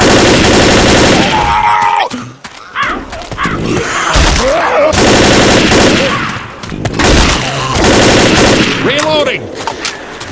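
Assault rifle gunfire roars in Left 4 Dead, loud dense automatic bursts pounding nearly nonstop, broken by two brief pauses. Voices shout over the shooting.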